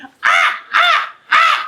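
A person imitates a crow with three loud, close, evenly spaced caws, each a harsh, nasal call separated by short pauses.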